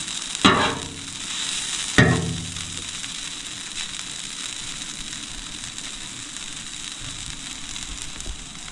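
Food crisping in a hot pan while cooking a family meal, a steady soft sizzle throughout, with two sharp clatters of utensils or the pan near the start and no talking.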